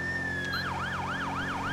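A GTA 5 police cruiser's siren on an emergency call starts as a long falling wail, then switches to a rapid rising-and-falling yelp that repeats about four times, loud and near, with no talking.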